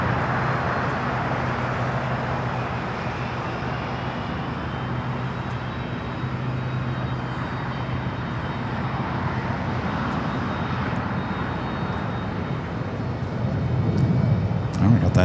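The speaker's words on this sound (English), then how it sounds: "Here we have Korean Air Flight 18 today on the 777-300ER taking off to Seoul." Korean Air Boeing 777-300ER taking off from LAX, a broad continuous jet roar that holds steady and swells louder toward the end, with faint talk in the background.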